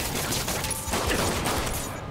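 Gunfire in the Marvel's Spider-Man video game, a dense, continuous crackle of shots that holds steady and loud throughout with no clear gaps, like a sustained volley from several guns.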